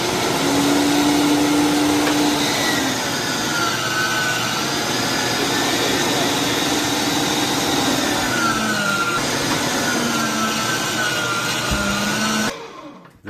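Electric meat grinder working partly frozen meat for salami, a loud continuous motor whine and churning drone that shifts pitch slightly under load and cuts off abruptly at the end.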